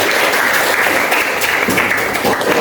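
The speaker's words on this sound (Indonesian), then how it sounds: "Kita kasih semangat dulu dengan tepuk tangan bersama." A classroom of students bursts into loud, close applause for a group stepping up to present, the dense clapping sustained without a break.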